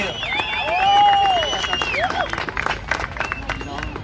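A crowd at a wetland environmental course session applauds an activist, with clapping and cheering that swell and then settle into scattered claps under a babble of voices.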